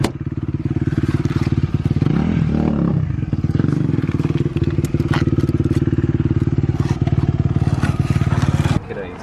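A 2019 Honda CR125 two-stroke dirt bike engine idles and revs up close in a loud, steady buzzing drone with a brief throttle blip partway through, then cuts off abruptly near the end.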